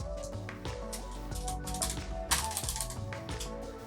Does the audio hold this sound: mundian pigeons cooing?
no